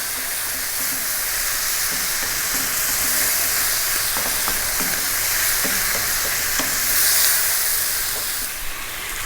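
Ginger beef stir fry sizzles hard in a pan over high heat, a loud continuous frying hiss close up, with small scraping and stirring knocks as the meat is kept moving.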